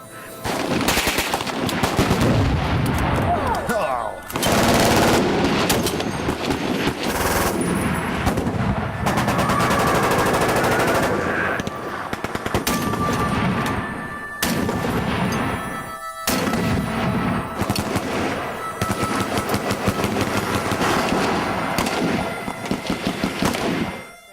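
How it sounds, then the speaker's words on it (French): Shots from a powerful .50 caliber rifle mixed with other rapid gunfire at an outdoor shooting session, loud repeated sharp blasts and bursts nearly continuous across the clip with short pauses between strings, no talking. "un fusil de calibre 50 assez puissant pour arrêter un véhicule blindé"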